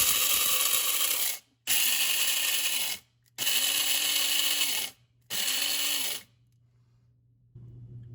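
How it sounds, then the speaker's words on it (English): Coffee beans for cold brew grinding coarsely in a coffee bean grinder, four loud whirring bursts of about a second each separated by short pauses, with a low steady hum running underneath. "you want to go ahead and put them in your coffee bean grinder"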